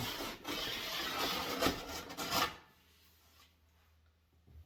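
A steel file is drawn firmly along the metal edge of a snowboard, giving a steady, close rasping scrape for a few seconds before it stops and only quiet handling noise remains.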